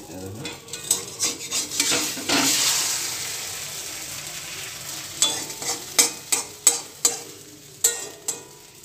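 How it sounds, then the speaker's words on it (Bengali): An egg fries in a pan and is turned with a utensil, a close sizzling hiss broken by a run of sharp metallic scrapes and taps. "ডিমটা উল্টাতে হবে, ডিমটা কেমন করে উল্টাবো সেটা তোমাদের দেখাচ্ছি।"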